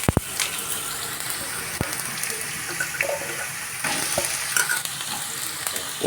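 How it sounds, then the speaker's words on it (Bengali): Potatoes fry in mustard oil in a hot kadai over low-to-medium heat, a soft continuous sizzle broken by sharp scrapes and clacks of stirring, close and alone. "এবার আলুগুলোকে ভেজে নেব।"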